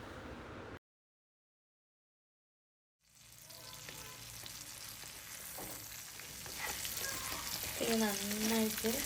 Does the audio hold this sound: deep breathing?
no